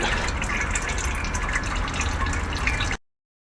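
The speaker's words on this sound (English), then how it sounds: "we've just taken the plug out. Let it drain out nicely." Gearbox oil from a 2010 VW Crafter six-speed automated gearbox pours steadily out of the open drain plug hole, a continuous close splashing trickle that runs about three seconds and then stops abruptly.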